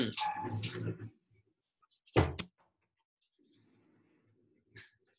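A dog lets out a short, sharp bark after a brief stretch of talk, followed by quiet with faint background rustling and one more small knock near the end.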